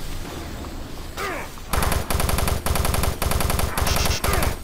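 Rapid automatic gunfire in the Doom 3 game, loud close bursts of bullets in repeated volleys after a short quieter lead-in.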